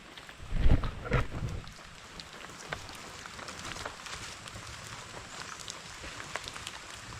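Steady rain patters on surfaces all around, with a few heavier thumps early on and scattered drips throughout.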